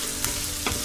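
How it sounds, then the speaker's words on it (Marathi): Chopped onions sizzle in a pan over high gas, a loud, steady frying hiss with a couple of brief stirring scrapes in under a second. "फास्ट गॅसवर कांदा परतवून घेऊया."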